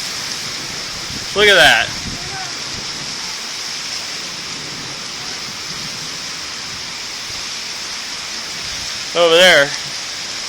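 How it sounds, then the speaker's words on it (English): Heavy rain pours steadily during a summer thunderstorm, a dense continuous wash of noise throughout, with someone speaking briefly over it twice. "It is pouring right now."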